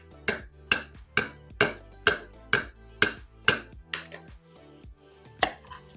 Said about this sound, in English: just take a spoon and smack it on all around the rim